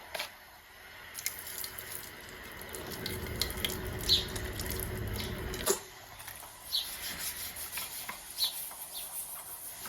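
Zep degreaser is poured into the engine of a 2005 C240 during a valve cover gasket replacement, giving a soft, liquid gush that runs for about three seconds over faint background drips and clicks.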